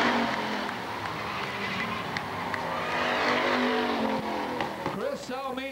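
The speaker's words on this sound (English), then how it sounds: "he's going to come down to take the checkered flag and the win." A bomber-class race car roars past at Lakeport Speedway as it takes the checkered flag, with engine noise and some tire squeal. An announcer talks over the car throughout.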